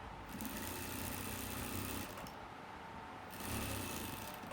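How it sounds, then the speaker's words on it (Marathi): Sewing machine stitching the front panel of a blouse along a chalk line near the sleeve side, a steady close mechanical whir that runs continuously and swells in two louder stretches. "आणि मग इथून इथपर्यंत शिलाई मारत येऊया खडूवरूनच."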